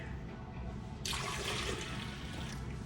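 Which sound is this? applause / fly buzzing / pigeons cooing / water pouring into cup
water pouring into cup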